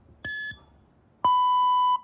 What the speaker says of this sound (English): Listen for your beep.